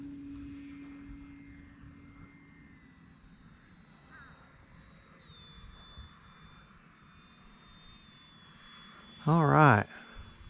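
A small airplane comes in to land, its engine a steady, moderate drone with a faint whining tone shifting in pitch, then a brief louder burst near the end.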